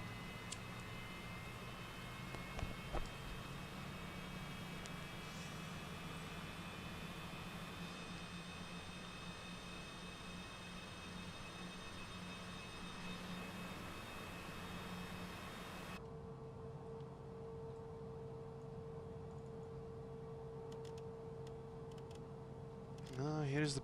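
Cessna Citation CJ4 jet engines idle in Microsoft Flight Simulator, a steady faint whine and rushing hum with thin high tones that shift partway through, and a few brief clicks near the start and end.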